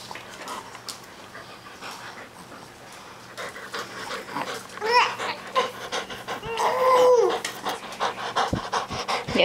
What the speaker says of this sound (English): You are such a bad dog.